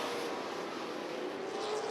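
Late model stock cars racing at Rockford Speedway, a steady distant roar of engines blending with broadband track noise, no single car standing out, with a faint rising engine tone across the stretch.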